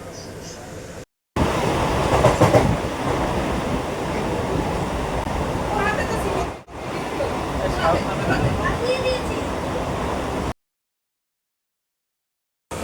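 Inside a moving train during Durga Puja outings, a loud continuous rumble and rushing noise fills the carriage, with brief gaps and faint clanks over the steady roar.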